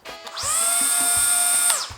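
Bosch 12V cordless mini angle grinder with a 76 mm disc, a steady high whine that spins up, holds loud and close for over a second, then winds down, with light knocks underneath.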